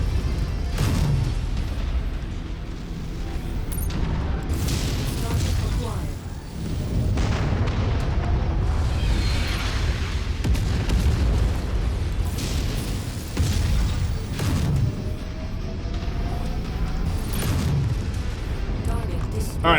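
Artillery cannons being shot up and destroyed by a mech in MechWarrior 5, with dense rumbling booms and bursts of gunfire rolling almost continuously, loud and heavy throughout.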